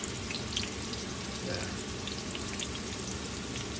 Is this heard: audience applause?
no